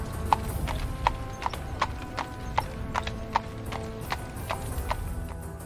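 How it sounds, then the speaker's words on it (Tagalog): Horses walked slowly along a forested mountain trail, their hooves clip-clopping in a steady, evenly spaced rhythm of sharp knocks over a low rumbling background, with no voices. "marahang pinapalakad ang kanilang mga kabayo"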